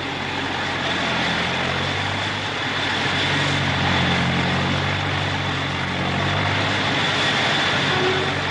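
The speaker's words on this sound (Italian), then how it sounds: "Questo aereo sta per decollare da una pista interamente ricavata sul mare," Continuous roar of an airplane's engines before takeoff from a runway built out on the sea in Genoa, steady and loud throughout.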